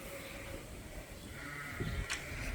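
Sheep bleat on a working sheep farm with Dorset ewes, a couple of faint, fairly distant calls over steady low background noise, with no talking.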